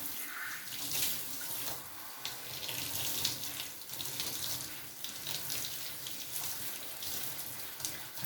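Tap water runs steadily into a sink while dyed hair is rinsed, a loud, continuous close splashing and gushing with shifting spatter as the flow hits hair and basin, with no talking.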